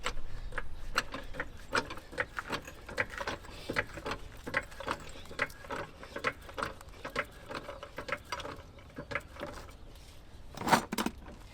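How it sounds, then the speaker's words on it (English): Ratchet wrench loosening the lug bolts on a car wheel, a BMW F30-series, giving rapid repeated clicking bursts of pawl ticks in quick irregular runs, close and fairly quiet, with no talking. "we have to loosen the lug bolts."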